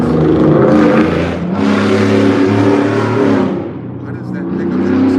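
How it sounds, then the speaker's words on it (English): A pickup truck engine revs loudly like a sports car, a rough, throaty roar that swells, dips briefly and climbs again, heard close and dominant. "Why do they pickup trucks sound like a sports car?"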